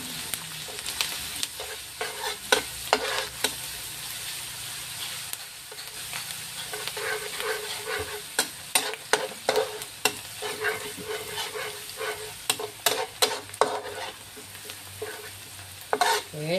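Garlic hits hot oil in a pan and sizzles steadily while a utensil repeatedly scrapes and clatters against the pan, with sharp stirring knocks punctuating the frying hiss.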